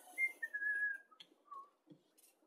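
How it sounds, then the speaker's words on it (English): A person whistles a short, quiet tune in a few sustained notes, one long held tone followed by shorter ones, close and soft in an otherwise hushed room. "Oh, we have to whistle when we do this one."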